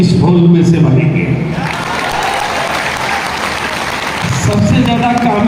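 Loud, sustained applause from a large audience filling a hall, steady dense clapping throughout with a brief voice near the end.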